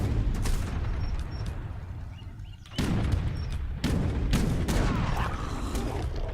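Musket volleys and cannon fire in a strategy video game battle, a dense rolling crackle of repeated gunshots with sharper bursts and booms, fairly loud and continuous.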